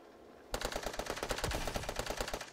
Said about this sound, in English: Oh, there's some gunshots going on.